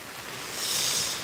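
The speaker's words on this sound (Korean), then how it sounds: "저기는 폭포가 있네요, 폭포." A very small waterfall at the foot of Sosilbong hill in Yongin rushes on a rainy day as a brief, steady wash of falling water, moderately loud and without voices.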